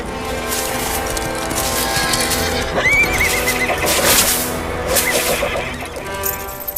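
A white horse carrying a rider gives a loud, close, high whinny in the middle of steady clip-clopping hooves and rattling tack.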